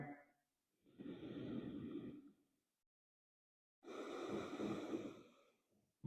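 Two slow, deep breaths taken by a person holding a yoga balance pose such as Half Moon or Warrior III, each a long airy exhale separated by a stretch of silence, close and soft.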